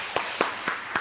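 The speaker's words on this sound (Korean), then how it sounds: "우리 주님께 영광의 박수 올려드리겠습니다." Hands clap in a church worship service, with four sharp, separate claps spaced about a quarter second apart in a brief, even rhythm.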